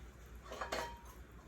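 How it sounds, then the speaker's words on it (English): A soft metallic clink and brief rattle as a lid settles onto a pot of wonton soup, faint against a low background hum. "I'm going to put a top on there."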